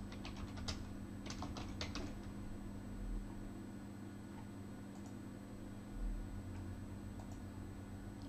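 Soft, close keystrokes tap out a folder name on a computer keyboard in short irregular clusters over a steady low electrical hum, fairly faint, with no voices.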